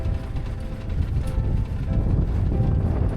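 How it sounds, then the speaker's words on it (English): Wind buffeting a boat during docking, a loud, continuous rumbling roar of gusts against the microphone with faint mechanical creaks, close and steady and with no talking. "The wind is fighting you right now."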